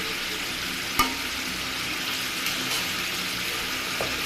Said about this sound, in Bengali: আমার সবজি এবং মাছ কষানো হয়ে গিয়েছে তেল ছেড়ে দিয়েছে